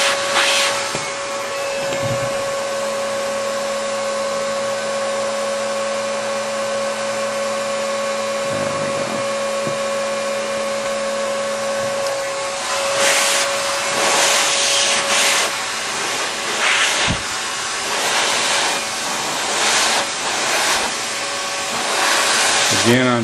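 A heat gun blows hot air onto shrink tubing over a wire or cable bundle while it is water-blocked. A steady, close whirring roar with a constant hum runs for the whole stretch, growing slightly louder and more uneven toward the end.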